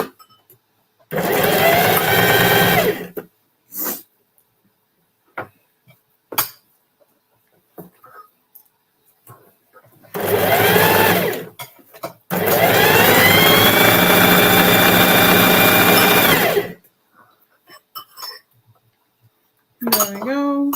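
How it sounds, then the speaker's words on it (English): A sewing machine stitches scrap fabric into a patchwork tote bag in bursts, starting and stopping between short runs, with one long steady stretch and small clinks and handling noises in the quiet gaps. "So let's get sewing."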